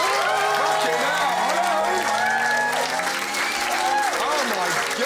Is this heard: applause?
yes